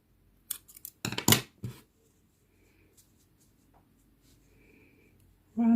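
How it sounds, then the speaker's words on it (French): Scissors snip brown sewing thread during a craft project, a few sharp, close metallic cuts in a quick cluster near the start, then quiet with faint handling noises and a short rustle at the end. "Voilà, et je coupe le fil."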